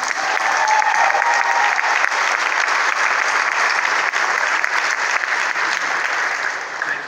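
An audience at a culinary school graduation applauds to welcome a chef to the stage, a dense, sustained wash of clapping from a large crowd, steady and loud throughout.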